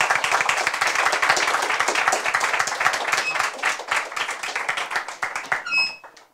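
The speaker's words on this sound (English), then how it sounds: "Round of applause for our team, St. Anthony's Secondary School." A school debate audience gives sustained, dense applause after a team's speech at a Caribbean semifinal competition, loud steady clapping from a crowd that thins and fades out near the end.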